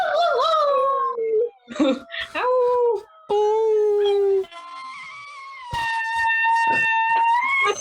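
A dog howls in long, wavering cries, several drawn-out howls in a row separated by brief pauses, loud and close.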